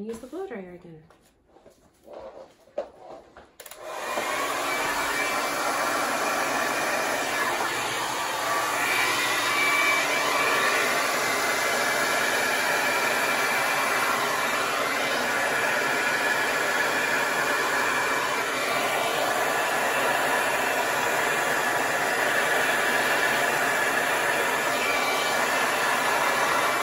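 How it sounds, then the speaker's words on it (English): A hair blow dryer runs continuously, pushing acrylic paint across a canvas in a Dutch pour painting, a loud steady whooshing drone that starts after a few seconds of quiet handling and lasts to the end. "and then we're going to use the blow dryer again."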